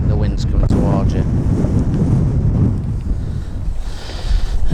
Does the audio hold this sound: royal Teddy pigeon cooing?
no